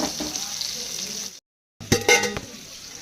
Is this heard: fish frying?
yes